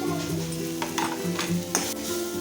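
Onion with a paste of coconut, garlic and ginger being sautéed in oil for Kolhapuri misal, with a few spoon scrapes over a soft sizzle, close by and against a steady tonal background hum.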